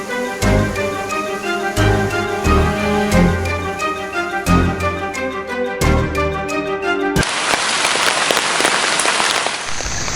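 Heavy monsoon rain in Kasaragod, heard first under a patterned musical backdrop with rhythmic hits and then as a dense, loud, steady hiss of downpour.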